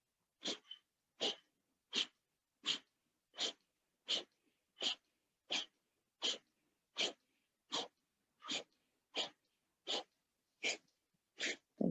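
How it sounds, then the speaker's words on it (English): Deep forceful exhales through the nose during a breathing exercise, a steady series of about sixteen sharp puffs evenly spaced under a second apart, close and clear with nothing else behind them. "Exhale, exhale, exhale, exhale."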